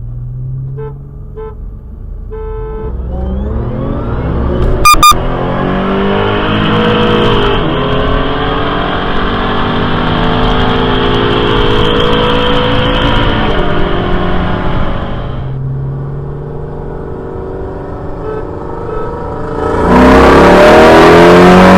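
A tuned Audi S4 and a supercharged Toyota Tundra roll race, their engines droning and climbing in a loud, long acceleration, with a brief horn toot early on and a rising roar at the end.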